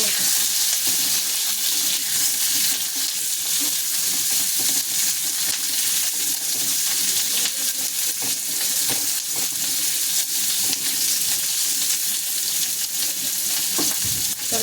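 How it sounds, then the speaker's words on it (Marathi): Chopped onion frying in a pan, a loud, steady close-up sizzle that runs unbroken, with occasional stirring knocks and no voices. "त्यानंतर आपल्याला कांदा टाकून घ्यायचा"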